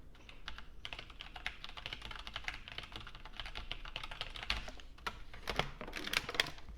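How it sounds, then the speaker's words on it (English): Steady typing on a computer keyboard placed behind a USB microphone, a continuous stream of fairly soft, slightly distant clicks and key taps with no talking. "Test number 1, keyboard behind the microphone."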